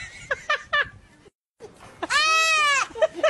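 A sheep bleats loudly and close beside a baby, one long wavering bleat after short babbling sounds from the infant and a brief pause.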